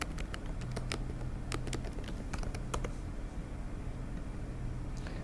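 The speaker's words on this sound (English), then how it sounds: "I'm going to type the URL for the other website." Quick, irregular clicks of keys being typed on a computer keyboard, close by, over a low steady hum, stopping about halfway through.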